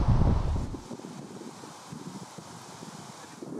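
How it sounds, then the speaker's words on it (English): Strong gusts buffet the microphone beside the water at a feeder fishing spot, a heavy low roar at first that eases into softer, uneven rumbling. "it is incredibly windy, so I'm really sorry if the camera's picking up on the wind interference"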